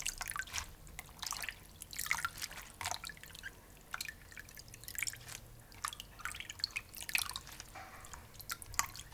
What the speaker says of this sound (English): Drain the potatoes and then transfer them to a bowl of ice water.